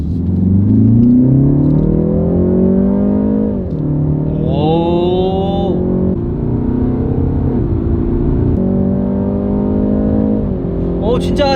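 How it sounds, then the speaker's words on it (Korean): A BMW fitted with the factory M exhaust sound system is revved repeatedly. A loud, steady engine drone rises and falls through several throttle blips, with a close, rumbling exhaust tone throughout. "하지만 250만원짜리 M 배기 사운드 시스템 같은 경우에는 순정으로 나왔기 때문에"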